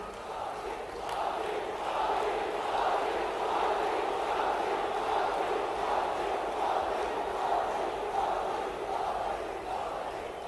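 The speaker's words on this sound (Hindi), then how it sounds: "एक बार दोनों हाथ ऊपर उठा के तालियां बजा के स्वागत कीजिए" A large crowd applauds and cheers together to welcome Prime Minister Narendra Modi at the Ujjain Mahakal temple corridor inauguration, a dense, steady roar of clapping and voices holding at full strength throughout.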